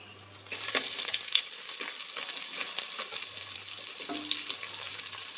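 A sudden loud sizzle starts as two chopped onions drop into hot oil, then a steady close frying hiss with occasional stirring scrapes.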